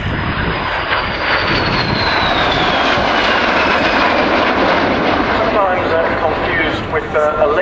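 An OV-10 Bronco propeller aircraft roars past overhead at RAF Waddington, loud and steady with a sweeping engine whine, fading slightly as a voice speaks near the end.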